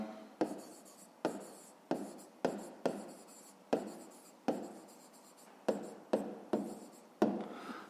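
A pen or pencil writes an answer to a fifth-grade maths exercise by hand on paper, giving a series of close, quiet scratchy strokes, each a short burst with a sharp start, in an irregular rhythm.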